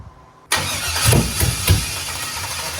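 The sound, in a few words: 1969 Camaro restomod engine starting and firing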